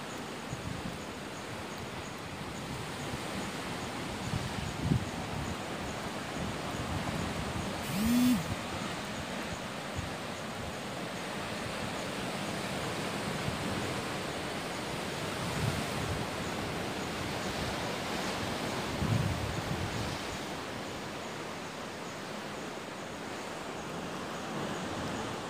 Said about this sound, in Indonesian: di tepi laut.